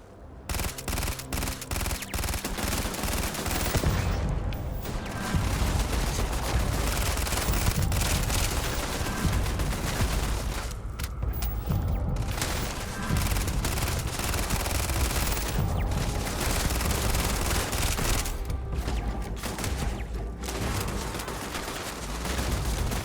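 Sustained automatic gunfire from a turret during combat in the space video game Starfield, dense rapid bursts running nearly continuously at high loudness with only brief gaps.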